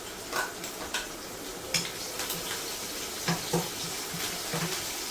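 Curry leaves and two green chillies sauté in oil with mustard seeds and cumin, a steady low sizzle broken by scattered light clinks and stirring taps against the pan.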